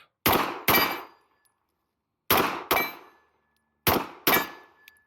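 Pistol shots fired at steel targets in a practical shooting drill: three pairs of sharp, loud reports, each shot followed by a ringing metallic clang, with pauses between the pairs and no talk.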